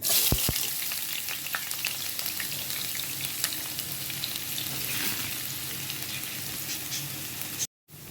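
Onion and spice paste frying in a pan for a mixed vegetable bhaji, a continuous close sizzle with occasional stirring clicks and scrapes, ending in a short cut to silence.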